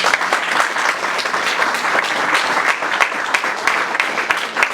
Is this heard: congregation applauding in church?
yes